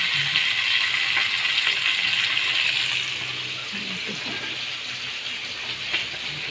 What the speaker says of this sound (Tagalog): Aking anak naghuhugas ng pinggan